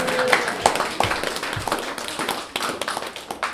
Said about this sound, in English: Round of applause for the scones.